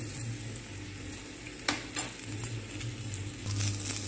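Tempering spices fry in hot oil with a faint, steady sizzle. A few sharp clinks and stirring scrapes of a utensil against the pan break through it, and no one speaks.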